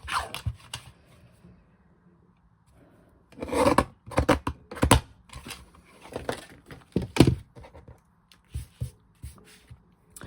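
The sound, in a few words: trimming paper for card making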